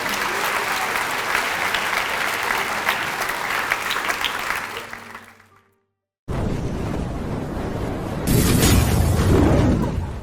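At a Grade 8 blazer ceremony in a school hall, the audience breaks into sustained loud applause that fades out, then a fresh burst of clapping resumes and swells.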